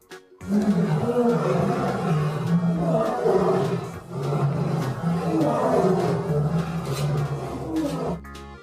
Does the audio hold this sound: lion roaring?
yes